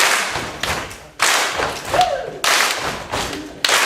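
Rhythmic group clapping during a church footwork session, strong accented claps opening each three-beat cycle with lighter claps between. A voice briefly rises in the background.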